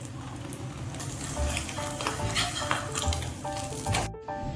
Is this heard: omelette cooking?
yes